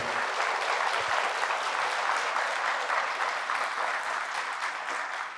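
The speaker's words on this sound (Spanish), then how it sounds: "Fuertes aplausos a Jesús de Nazaret" An audience in a church bursts into sustained applause during a Catholic healing and deliverance service, dense clapping that stays loud and even throughout and tapers slightly at the end.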